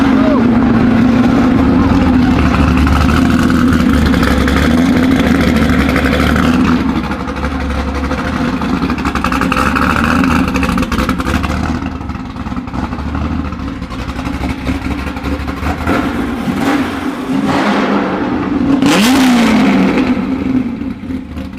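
A Corvette engine starts and revs loudly up close, a steady low rumble rising in a few throttle blips before settling toward idle, with people talking over it.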